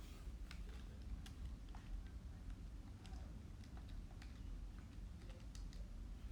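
Fingers pressing keys on a calculator keypad, a series of small, quiet, irregular clicks heard close against a steady background hiss.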